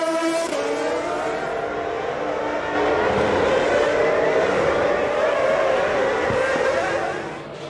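Formula 1 cars at the 2011 Canadian Grand Prix in wet conditions, a loud, high, continuous engine whine that climbs in pitch as the cars pass, heard without talk.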